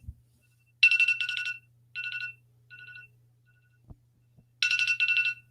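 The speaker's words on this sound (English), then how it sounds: "I don't know what's going on with my phone. The ringer is actually off." A phone rings with a warbling electronic ringtone in repeated bursts, several trilling pulses, then quieter fragments, then another full burst, loud and close against near silence.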